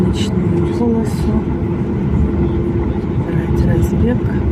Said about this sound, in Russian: Самолет выезжает на разгоночную полосу